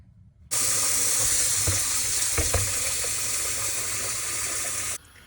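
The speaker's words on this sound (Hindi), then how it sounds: "हमारा पानी यहाँ बॉयल हो रहा है" A pot of water for rice heats on the stove, giving a loud, steady hiss and bubbling that starts abruptly and runs on without a break, with a few faint clinks underneath.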